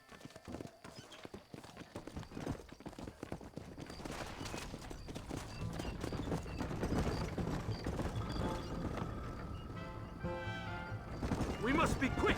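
Horse hooves clip-clopping on a ride to Chuparosa in the video game Red Dead Redemption, steady rhythmic hoofbeats under game music and wagon rumble, with voices speaking over them.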